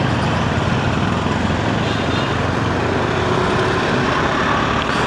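Steady road traffic on the way up to Kamakhya temple in Guwahati on a Sunday, a continuous broad wash of engines and road noise with no distinct passes standing out.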